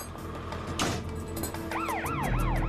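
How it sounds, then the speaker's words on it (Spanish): Traffic noise with a brief rushing whoosh, then a wailing ambulance siren starts up, rising and falling in a repeating pattern in the distance. "Ese mismo día llevaron a Chelsea en ambulancia a San Antonio"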